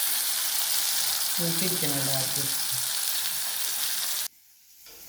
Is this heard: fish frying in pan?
yes